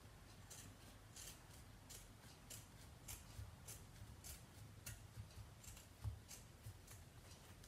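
Shears snip away the fabric bulk around the stitching of a sewn earbud holder, a faint run of small crisp cuts in loose rhythm over a low background hum, close by and quiet, with no talk.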